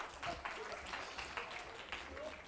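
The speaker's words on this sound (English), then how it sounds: "Round of applause for the person up there." Scattered applause from an audience, moderate and brief, mixed with background voices.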